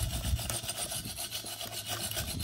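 Light scraping on a Poulan Farm Pro 375 chainsaw, a close, steady raspy rubbing that repeats in short strokes, alone without talk.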